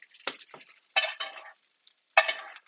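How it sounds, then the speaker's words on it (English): Butter-basted steak sizzles in a tipped cast iron pan, sounding as short bursts of crackling spatter separated by near silence, close and fairly quiet. "Let's baste the steak. So just tip the pan down using a cast iron."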